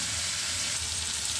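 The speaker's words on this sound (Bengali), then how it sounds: "ধিমে আছে, ভাজাটা হতে থাক" Food frying gently in a pan over low heat gives a steady, even sizzle that stays close and fairly soft throughout, with no talking.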